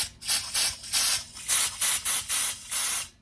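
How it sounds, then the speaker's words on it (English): Compressed air blowing through a clogged, rusty part on a 1972 C10 truck: around eight loud, close hissing bursts in a row, each lasting a fraction of a second with brief gaps between them, no voices. "Let's see if we can blow just a little bit of air through it."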